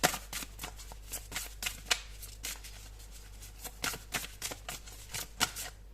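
Tarot cards being shuffled by hand, a steady run of soft riffling flicks and slaps close up with no talking.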